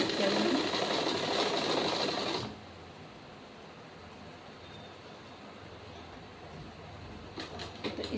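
A sewing machine stitching a blouse runs in a fast, loud buzzing burst for a couple of seconds, then stops, leaving quiet room noise with brief whirring bits near the end.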